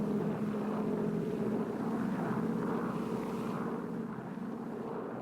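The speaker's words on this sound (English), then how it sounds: "Operation Ranch Hand aircraft sprayed lethal defoliants to destroy the jungle cover" Operation Ranch Hand defoliant-spraying aircraft drone overhead with a steady, loud propeller engine roar that holds constant and fades slightly toward the end.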